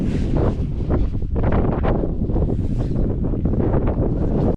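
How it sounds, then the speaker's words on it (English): Strong wind gusts buffet the microphone at a winter mountain campsite, a loud, continuous roaring rush that runs from start to finish with no talk over it. "It's getting proper windy now, so that's the end of this camp"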